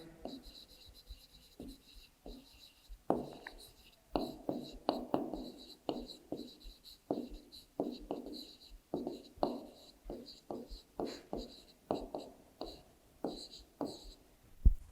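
A pen or pencil writes numbers by hand on paper in a class 3 maths lesson, giving close, soft scratchy strokes in short irregular bursts. A faint voice talks in the background.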